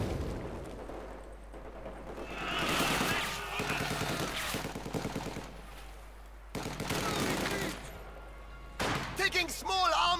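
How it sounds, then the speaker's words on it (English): Small arms fire in a war strategy video game, rapid crackling bursts of gunfire and booms coming in waves, with game voices calling out between them. "Taking small arms fire!"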